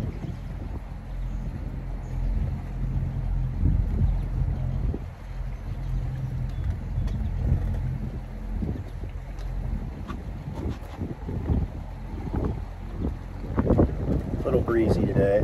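Breezy outdoor wind buffeting the microphone as a low, continuous rumbling roar with gusty swells, steady and close throughout.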